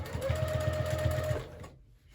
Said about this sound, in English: as I sew down, I'm gonna start slowly working my way over to a 3/8 inch seam allowance